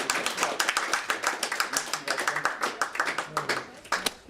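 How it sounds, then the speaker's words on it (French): Audience clapping in a small gathering, a dense patter of hand claps with sharper individual claps standing out, fairly close and steady throughout with faint voices beneath. "On peut les applaudir."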